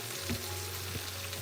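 Breakfast food frying in a pan, giving a steady low sizzle with a faint hum underneath throughout, and a few soft clicks and stirs.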